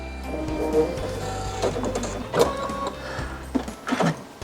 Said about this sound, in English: And now we'll just run that final satin bean stitch.